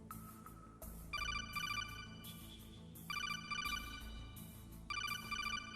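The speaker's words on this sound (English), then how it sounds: "you get a phone call" A phone rings in the Metal Gear Solid video game, sounding as repeated bursts of a bright electronic ringtone in a steady pulsing pattern over a low background hum.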